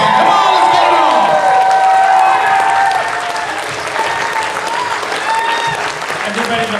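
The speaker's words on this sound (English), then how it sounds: "can I get a big round of applause for all these unsung heroes up here?" A convention crowd at a Power Morphicon panel applauds the guests on stage with sustained, dense clapping and some cheering, loud and steady throughout with voices and whoops mixed in.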